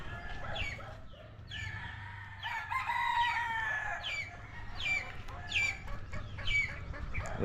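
A flock of chickens on a farm clucks and squawks continuously at close range, with overlapping calls and a rooster crowing among them against a low background hum.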